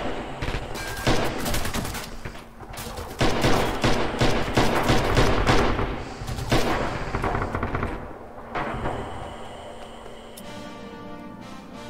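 Machine gun fire in Red Orchestra 2 during a winter fight: loud, dense bursts of rapid automatic shots mixed with other gunfire and distant booms, tapering toward the end, with no talking.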